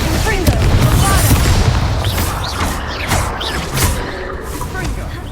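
Confringo and Bombarda spell blasts in Hogwarts Legacy combat, a rapid series of loud booming explosions and impacts crowding one another, with voices shouting over the fight.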